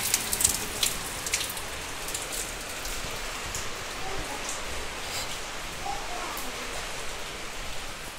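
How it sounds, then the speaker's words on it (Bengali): Heavy rain falls steadily in Bengal during the Durga Puja season, a dense, continuous wash of drops on surfaces with no break across the whole stretch. "আজকেও বৃষ্টি হচ্ছে খুব"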